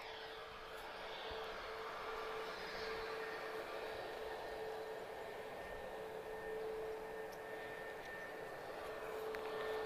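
A TAP Air Portugal airliner departs Lisbon Airport for Heathrow with a faint, distant, steady jet rumble and a thin whine, rising slightly near the end.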